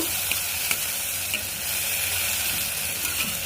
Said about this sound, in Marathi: ही मूग डाळ पण याच्यात आता मिक्स करून घेऊ